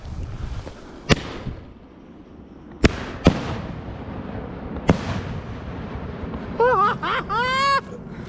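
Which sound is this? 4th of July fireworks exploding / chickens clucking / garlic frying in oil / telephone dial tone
4th of July fireworks exploding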